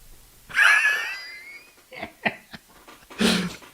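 A Labrador Greyhound mix dog gives a drawn-out whining yelp followed by a few short sharp yips and a final louder bark-like cry, close to the microphone in an otherwise quiet room.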